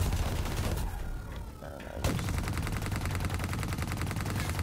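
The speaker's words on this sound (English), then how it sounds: "First, shoot this place up." Sustained automatic gunfire from Call of Duty: Black Ops III, fired inside a safe house: dense rapid bursts, briefly pausing near the second mark, then resuming as a loud, continuous rattle with no talk.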